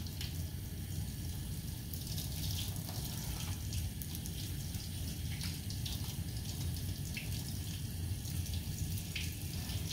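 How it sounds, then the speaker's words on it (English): Tap water runs steadily into a sink while hands are rinsed during a five-minute surgical scrub, producing a continuous close splashing hiss with small shifts as the hands move through the stream. "So just going for my second rinse."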